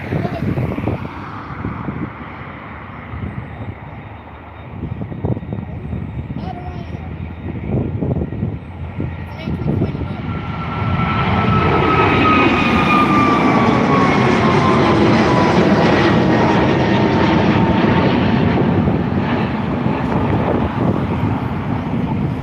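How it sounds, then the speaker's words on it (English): An Aer Lingus Airbus A321neo LR jet takes off at Dublin Airport, its engine roar swelling into a loud, sustained rumble with rising whine, mixed with wind buffeting the microphone. "That was indeed the flight to New York. EILRD, the fourth of the A321neo LR batch that Aer Lingus received"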